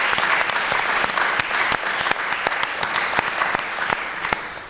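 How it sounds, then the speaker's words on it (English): Audience applause for Elizabeth Sackler at a Brooklyn Museum event: dense, steady clapping from a sizable crowd throughout, with sharp individual claps standing out near the front. "So I just want to give a big round of applause for Elizabeth Sackler."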